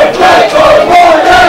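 Wrestling crowd at a live show in Cork cheering and chanting in a loud, sustained wall of voices, with a rising chant line holding steady throughout.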